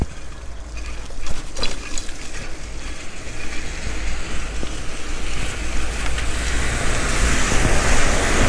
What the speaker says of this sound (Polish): rzeka płynie chodnikami